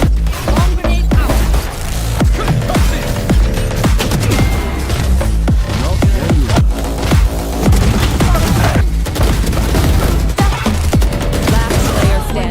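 Valorant match gameplay with dense, sustained gunfire and bursts from an exploding grenade, loud and continuous throughout with rapid overlapping shots and booms.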